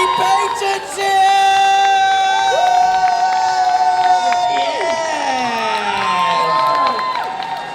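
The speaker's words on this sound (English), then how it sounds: "Let's get some shouting and cheering going" A convention audience at Comic Con Brussels 2020 shouts, whoops and cheers loudly and continuously at a Q&A with an actor, with scattered high voices and tonal noises rising over the crowd roar.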